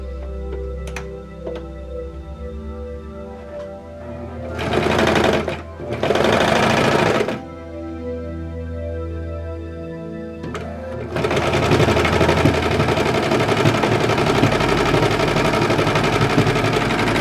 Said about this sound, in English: Sewing the band together at the seams here.